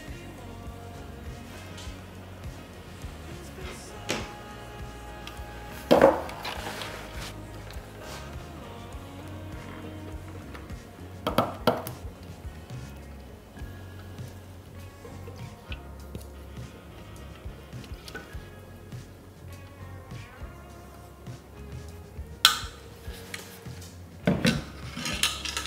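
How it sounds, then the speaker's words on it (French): Zucchini mousse mixture being poured and scraped from a bowl into another container, with intermittent utensil clinks and knocks against the dishes and occasional louder taps, close and without talk. "je transvase ma préparation dans un récipient"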